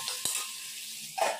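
Tomatoes sauté in a pan with a soft continuous sizzle, broken by a quick metallic tap early on and a spoon scrape near the end; no talking.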